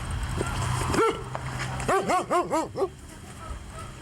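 A dog gives one yip and then a quick series of five sharp barks, fairly close, over a low background hum with no voices.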